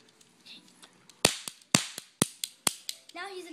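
A rapid run of sharp, snappy gunshots from a video-game weapon firing deep sleep tranquilizer ammo, about seven close cracks in an uneven rhythm. Quiet game sounds play beneath them, and a voice is heard at the end.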